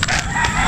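A rooster crows loud and close, a single sustained call filling the whole moment with no talk over it.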